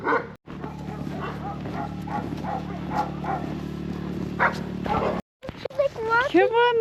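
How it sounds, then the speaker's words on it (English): A dog barks and yips in short bursts at an off-grid log cabin in the remote Alaskan wilderness, close by and mixed with people talking. "Oh my god, what a gorgeous dog."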